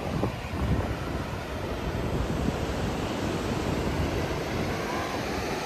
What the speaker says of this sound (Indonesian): Ombak besar.